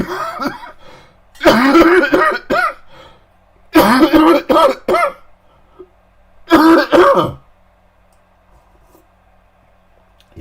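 Three loud, forceful bouts of throat clearing, each a rough burst of several rasps, separated by pauses of near silence.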